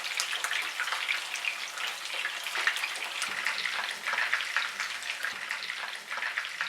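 Beef reshmi kababs frying in oil in a pan, giving a steady crackling sizzle that runs close and even throughout with no speech.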